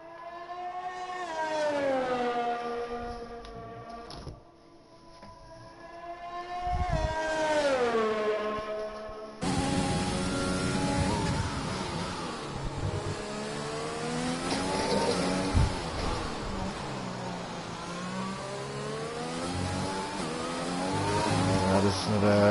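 Race car engine roaring through a hot lap in a sim racing esports event, a near continuous high revving drone with rising and falling pitch through gear changes, with commentators talking over it.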